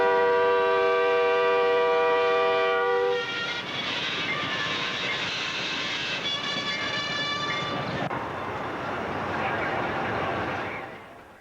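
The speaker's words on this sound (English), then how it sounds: "Even at this slow speed, the force of the train is incredible." A slow-moving freight train at a railroad crossing sounds a long horn blast, then rumbles and clanks past loudly and close, with more horn tones over the grinding roll.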